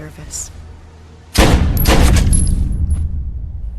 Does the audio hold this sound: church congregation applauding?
no